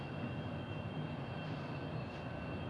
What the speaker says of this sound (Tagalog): Terminal na train to. Sasakay ka dito sa train.